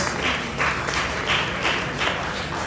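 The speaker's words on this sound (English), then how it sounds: "Give them a round of applause" Audience at a fundraising night out gives a round of applause for event staff, a steady wash of clapping with rhythmic swells that fills the room and carries on throughout, with no voices over it.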